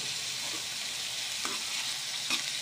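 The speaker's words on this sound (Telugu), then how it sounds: "ఈ విధంగా కలుపుకుంటూ మనం వేయించుకోవాలి" Onion and tomato pieces frying in a pan while being stirred: a steady, fairly quiet hiss of sizzling, with a few soft scraping stir strokes on top.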